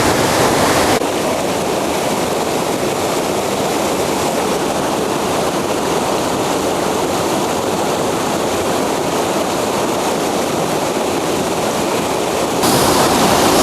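River water rushing steadily along a riverbank, a broad continuous wash of flow that stays even and fairly loud throughout with no voices.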